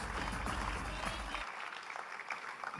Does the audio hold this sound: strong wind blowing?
no